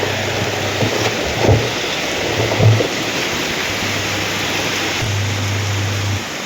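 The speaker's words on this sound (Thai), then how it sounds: "ฝนพี่น้องเอ้ยฝนแท้ฝนว่า ตกตั้งแต่เมื่อคืนนี้" Heavy rain that has been falling since the night before, a steady, dense hiss with no break. A faint low hum comes and goes underneath, and there are a couple of brief louder swells.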